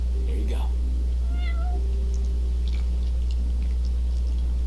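A cat in Final Fantasy XV meows a few short times while being fed cooked fish, with chewing noise mixed in over a steady low background hum.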